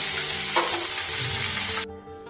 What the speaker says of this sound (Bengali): সব মাছগুলো কিন্তু ভেজে তুলে নিয়েছি